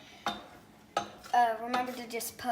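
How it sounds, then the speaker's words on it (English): Spoon or spatula stirring a thickening brigadeiro mixture of condensed milk and butter in a pan, with a few distinct clinks and scrapes against the metal, close and moderately loud. "So right now I'm just mixing it, and it's getting a bit thicker."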